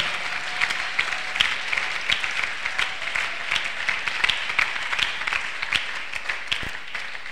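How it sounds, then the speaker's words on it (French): A church congregation claps and cheers at length, a dense, steady wash of many hands with scattered whoops, heard fairly close and continuous throughout. "So I want you to applaud yourself, to give yourself a hand."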